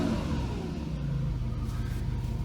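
A 1991 Mercedes 500SL V8 engine revving, a steady mid-level rumble with rising and falling engine tone throughout, heard alone without talking.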